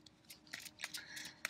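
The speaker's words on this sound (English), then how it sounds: "I'm just shuffling." Oracle cards from a Mystic Moon deck being shuffled, giving a run of quick, crisp papery riffles and flicks in irregular bursts, close and fairly quiet, with no talking.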